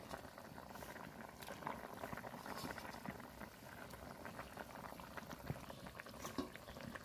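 Thin fish curry with cumin paste bubbling in a pot, a soft continuous boil with small pops and gurgles, quiet and close with no voice.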